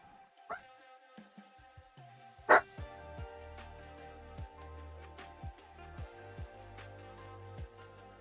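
A dog barks and yips indoors in short scattered bursts, one sharper bark standing out, faint and somewhat distant, while a doorbell rings in the same home.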